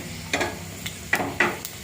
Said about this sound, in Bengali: ফোড়নে দিয়ে দেবো 5 ফোড়ন